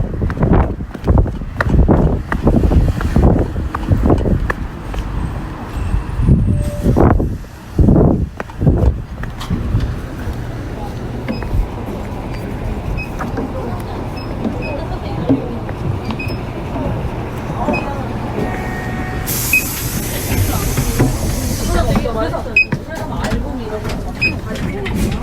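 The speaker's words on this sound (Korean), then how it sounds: "약간 바람이 불고 발자국 소리가 들리고 또 사람 말소리도 좀 들리는데" Outdoors while waiting for a bus, wind blows steadily as footsteps pass and people talk nearby, with a run of sharp knocks and thumps early on and a brief hiss of traffic noise later.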